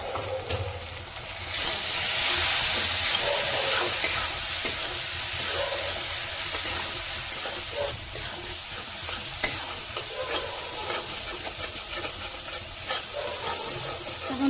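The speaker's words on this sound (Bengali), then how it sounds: "মশলাটা ভালোভাবে কষিয়ে নেব" Turmeric and Kashmiri chili powder tarka spice mix sizzles steadily in hot oil, with a bright, continuous frying hiss and scraping stir strokes throughout, loud and close, no talking.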